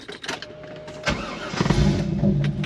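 A C5 Corvette's engine running as the car pulls out, with a brief rumble rising into a steadier low drone, close and moderately loud.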